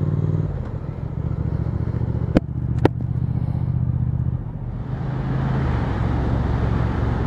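A Triumph Speed Twin 1200 motorcycle idles with a steady low rumble, then pulls away as the engine note rises. Two sharp clicks come partway through, and the engine stays close and loud throughout with no talk.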